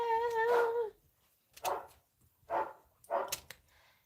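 A dog barks indoors in a home sewing room, one longer whining yelp followed by three short, sharp barks spaced about a second apart, close and fairly loud.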